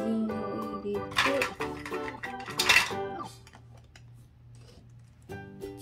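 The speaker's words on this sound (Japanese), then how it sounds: "次は切ったお野菜を炒めてみよう。" Toy pan and plastic utensils clattering in a children's toy kitchen while pretend vegetables are fried, a cluster of light knocks and scrapes around the middle, then quieter tapping with soft background tones.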